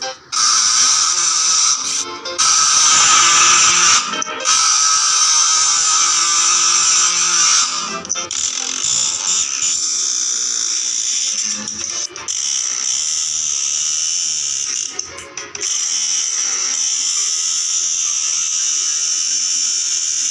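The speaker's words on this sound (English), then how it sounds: "I'm going to be trying to bolt click on both mice to see how much CPS you can get" Extremely rapid, continuous clicking from bolt-clicking two computer gaming mice, a Com Pro and a Model D, forming a loud, buzzing rattle that runs almost unbroken with a few brief gaps.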